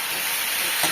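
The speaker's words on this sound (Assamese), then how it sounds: "কলৰ দিলখিনি ধুনীয়াকৈ আগত ভাজি লৈছোঁ" Banana flower frying in a pan for a home-cooked Assamese meal, a steady close sizzle with a brief louder burst near the end.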